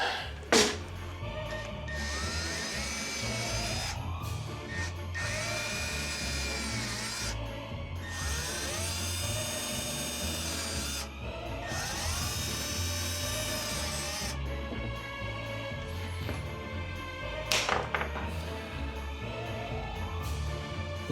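Electric drill with a tiny 1/16-inch bit boring into craft material for a mouse trap costume, a steady whining motor that runs in long stretches with brief pauses and pitch shifts, close and continuous.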